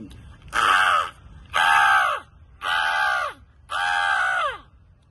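A mimicry artist's voice imitating a crow's cawing: four loud, harsh, drawn-out caws delivered one after another at a steady pace with short gaps between them.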